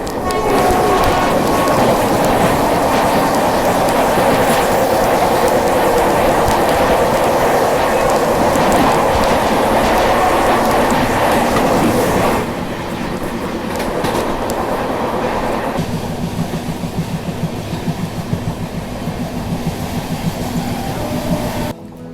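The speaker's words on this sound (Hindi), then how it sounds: "महानगरी एक्सप्रेस के बाद सेंट्रल रेलवेज की राजधानी एक्सप्रेस के साथ क्रॉसिंग हो जाती है" An Indian express train rumbles steadily past close by with rattling wheels, the roar dropping partway through as a second express train crossing it continues clattering along.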